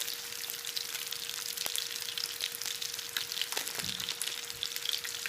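Chorizo fries in a hot pan with a steady, close crackling sizzle and a faint hum underneath, no talking.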